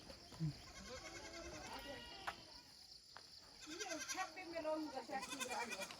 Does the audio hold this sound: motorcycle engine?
no